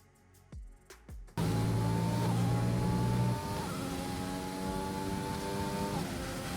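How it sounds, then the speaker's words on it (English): An F1 car in a video game runs down the long main straight at the Bahrain circuit, a loud steady high-pitched engine whine that climbs through the gears after a few short sounds at the start. "coming down the main straight now, this very long main straight all the way up towards 330 kilometers an hour"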